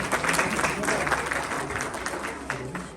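Audience clapping at a Punjabi religious satsang gathering, a dense, steady patter of many hands held close and fairly loud through the whole stretch, with faint voices mixed underneath.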